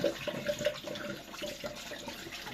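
Tap water running steadily while a plaice fish is rinsed under it, a close continuous splashing rush with small surges as the fish is handled.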